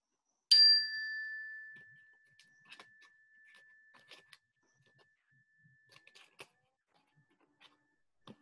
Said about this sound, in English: let the chimes call us to silence